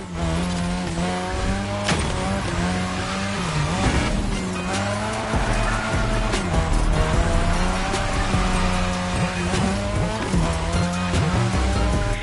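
Car drifting on a drift track in the racing game The Crew Motorfest, a loud revving engine with long continuous tire squeal and shifting pitch, wavering throughout over background music.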